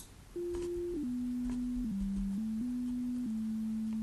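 A low-pitched pure sine test tone plays continuously at an even, quiet level, its pitch stepping slightly several times, with no other sound besides a faint click at the end.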